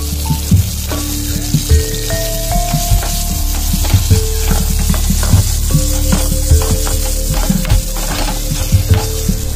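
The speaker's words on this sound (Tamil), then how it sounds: "இப்போ நறுக்கின தேங்காவை நெய் ஊற்றி வறுத்து வச்சுக்கலாம்" Loud, close sizzling and crackling of chopped coconut frying in hot ghee, with occasional stirring clinks against the pan.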